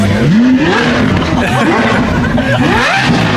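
A Lamborghini SVJ supercar revs loudly at a busy car meet, with its engine pitch sweeping up and down in sharp bursts against crowd babble and nearby talking.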